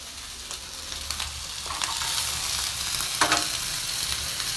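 Ganting fish frying in a pan, a steady close sizzle and crackle of hot oil with a few sharper pops and spatters rising through it, no voices.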